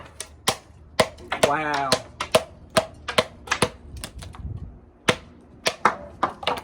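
A Work Tuff Gear Carnivore Gen 2 knife with a convex, mirror-polished edge chops into wood in a string of sharp, close, irregular thwacks, with brief exclamations from a man between strikes.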